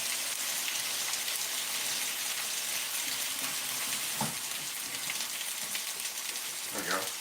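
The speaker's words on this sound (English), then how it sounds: "Listen to that sizzle." Beef fries in oil in a hammered Wagner cast iron pan, a dense, steady crackling sizzle held close and loud throughout, with a couple of brief clunks and some talk over it.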